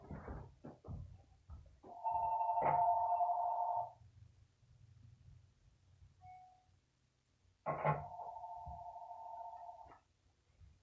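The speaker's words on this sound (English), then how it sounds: "Got a phone ringing." A house telephone rings indoors in two separate bursts a few seconds apart, each a steady electronic trill heard at moderate volume with quiet room noise between.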